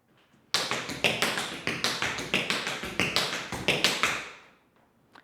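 A quick triplet paddle-and-roll on tap shoes, begun with a spank, rattles off as a continuous chain of sharp near metallic taps before tapering away into quiet.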